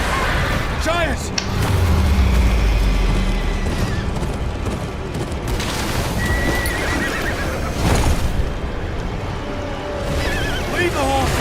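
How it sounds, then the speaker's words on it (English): Horses neigh and whinny repeatedly amid heavy clip-clop hoofbeats during a Game of Thrones Kingsroad gameplay scene, loud and close, with shouted voices, thuds and mechanical clatter mixed in. "Leave the horses!"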